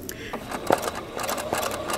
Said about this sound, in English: So I'm going to sew ahead to where the tip of the leaf would be